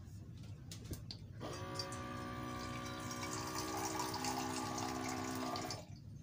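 Water flowing steadily into a pan, a close, continuous pouring rush that starts after a second of quiet and stops abruptly near the end, with faint background noise around it.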